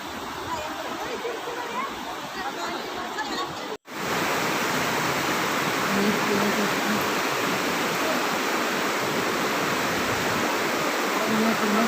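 Steady broadband rush of river water flowing strongly after the year's rains, continuous and close with a brief dropout near the start, no voices.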